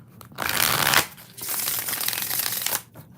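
Tarot cards are riffled and shuffled close by in two quick bursts of papery flutter, with brief pauses between.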